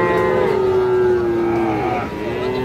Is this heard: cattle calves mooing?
yes